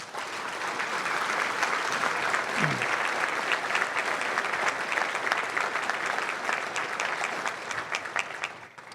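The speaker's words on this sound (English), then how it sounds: "Let's have a round of applause for all of them." A banquet audience at a military fundraising dinner applauds the officers in attendance, dense sustained clapping from many hands that holds steady for several seconds before tapering at the end.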